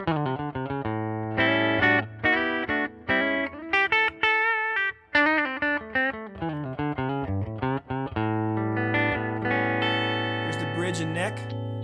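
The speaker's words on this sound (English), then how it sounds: "semi-hollow mahogany body guitar with a flame maple top" A cherry sunburst semi-hollow mahogany electric guitar with a flame maple top and Voodoo PAF pickups plays clean on the bridge pickup, bright picked chords and single notes ringing steadily with no talk over them.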